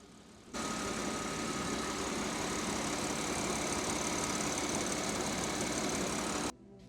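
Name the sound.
Audi S5 engine idling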